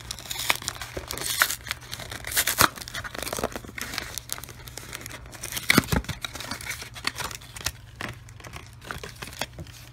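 An Animal Crossing amiibo card pack is torn open by hand, giving close crinkling and ripping of plastic wrapper with irregular crackles and sharp tearing bursts over a faint steady hum.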